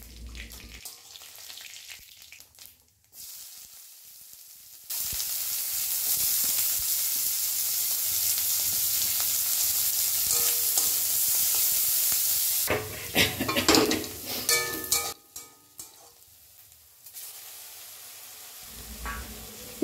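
Chopped onion drops into hot oil seasoned with five-spice and dried chillies in a wok, bursting into a loud, sustained sizzle, followed by scraping stirs and clattering against the pan.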